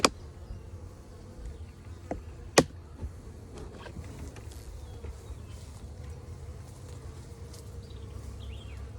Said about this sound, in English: There's a few bees inside the cover, and those will move inside the hive momentarily.